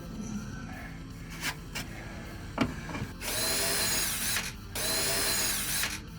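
A power drill drives lag screws into existing holes to hang a VFD for a pair of belt grinders in a workshop. After a few knocks and clatters, two sustained close-up whirring bursts run loud.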